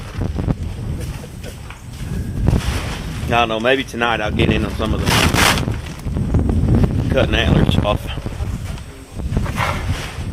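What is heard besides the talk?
wind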